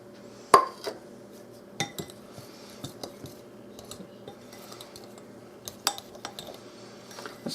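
A spoon stirring peach dessert mixture in a bowl, giving sparse clinks and scrapes against the dish at an irregular pace, close by and moderate in level, with no voices.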